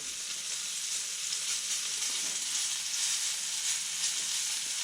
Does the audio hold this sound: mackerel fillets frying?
yes